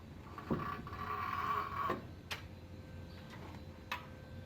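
A breaker bar with a 24 mm socket turns the crank pulley of a 5.3 V8 engine, giving a few faint ticks and ratcheting clicks over a low steady hum.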